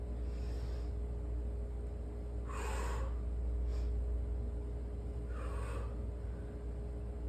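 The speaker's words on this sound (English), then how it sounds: "Hopefully you can hear me breathing." Heavy exhaled breaths during a bodyweight workout, two or three broad breathy bursts a few seconds apart, faint over a steady background hum.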